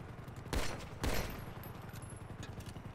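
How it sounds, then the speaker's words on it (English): Two heavy shotgun blasts from the video game GTA, each a sharp loud boom about half a second apart, followed by quieter background game ambience. "But I can just use an assault shotgun."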